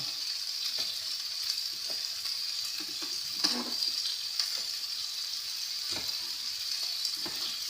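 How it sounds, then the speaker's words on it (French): Onions caramelize gently in a pan for making Savoyard diots, giving a steady, close sizzle broken by occasional soft clacks of stirring. "On va caraméliser gentiment les oignons"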